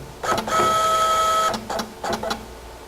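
A fiscal receipt printer whirs in a sustained mechanical burst of about a second, then gives several shorter chattering bursts, close and loud with no talk.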